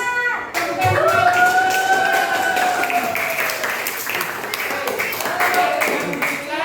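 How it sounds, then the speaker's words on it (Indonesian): Loud, dense clapping in a classroom of young students during an Islamic religious education lesson, with children's voices calling out over the sustained applause. "Tepuk tangan."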